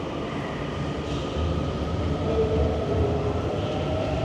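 A subway train rumbles at an underground metro station in Wuhan, a steady low drone that swells slightly as it nears, with no talking.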